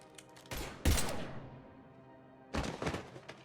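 Gunfire in the video game Mass Effect 3, with a few heavy, booming shots and bursts separated by short decaying pauses, close and punchy.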